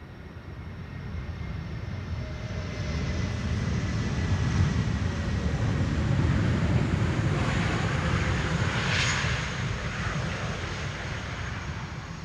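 An airliner lands on Schiphol's Polderbaan runway 18R: a loud, steady broadband engine roar swells in over the first few seconds and holds close and continuous, with no voices.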